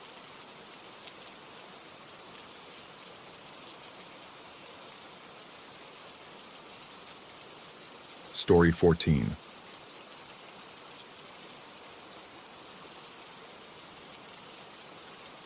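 Steady soft rain falling, a constant hiss of drops throughout, with a brief burst of a voice speaking near the middle.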